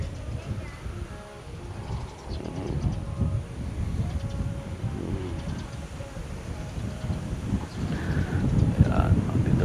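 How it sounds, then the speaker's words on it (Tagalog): Strong typhoon wind roaring and rumbling against the microphone throughout at Cavinti, Laguna, building toward the end, with faint distant sounds mixed in. "ang lakas ng hangin."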